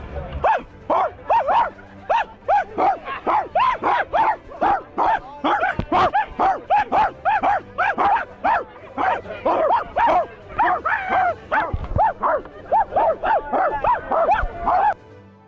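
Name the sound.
people imitating dog barks at each other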